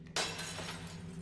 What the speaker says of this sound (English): can you stop breaking glass?